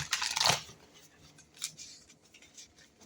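Tarot cards shuffled by hand, a dense papery riffle in one close burst at the start, then softer scattered rustles and taps.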